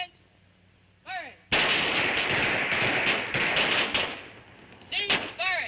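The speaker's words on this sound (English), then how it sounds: "Ready on the firing line. Commence. Firing." Rifles fire together in a volley on a military firing line, a loud sustained burst of overlapping shots lasting a few seconds, preceded and followed by brief whistle-like tones.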